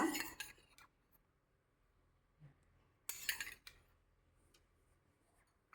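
A spoon clinks against a glass or cup while amrutha balli (giloy) juice is stirred with honey, giving a few sharp, close metallic taps that come in two short bursts with quiet gaps between them.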